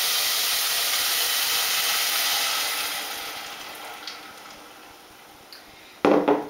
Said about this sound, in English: The rice has been frying for a few minutes, so I'm just going to pour it in until it covers everything.